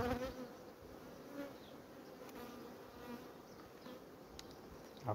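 Honeybees from a strong colony buzz around a queen-rearing starter frame in a hive: a faint, steady, close swarm drone with no pauses.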